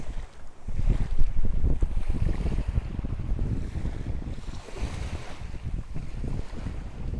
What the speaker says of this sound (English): what we're looking at is the water coming in and going out at the same time